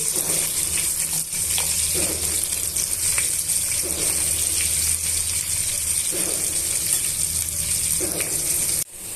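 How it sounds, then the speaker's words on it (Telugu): Onions frying in a pan for a carrot and brinjal masala curry give a steady sizzle, with a few soft stirring scrapes and no voices, lasting until a sudden cut at the very end. "ఉల్లిపాయ ముక్కలు బాగా వేగిపోయాయండి"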